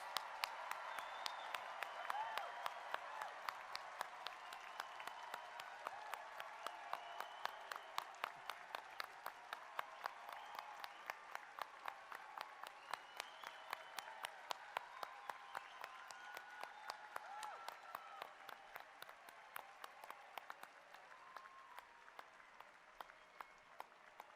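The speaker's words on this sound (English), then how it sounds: "now it's time to applaud our new doctoral graduates" A large commencement audience applauds new doctoral graduates, with sustained, fairly faint clapping that stays even throughout and fades slightly toward the end.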